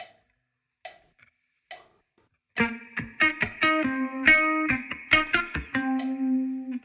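Electric guitar playing a bar of a song at 70 BPM: a few faint ticks, then a run of clean plucked notes with some ringing on, ending on a sustained tone.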